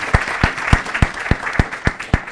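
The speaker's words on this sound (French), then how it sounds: "on applaudit très très fort pour Magma Gabriel Konaté" Audience applause greeting guest Magma Gabriel Konaté on a television programme, heard as a sparse run of about eight distinct, evenly spaced claps over a steady hiss of room noise.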